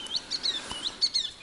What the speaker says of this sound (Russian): Птицы уже прилетели. Уже весенние, летние птицы.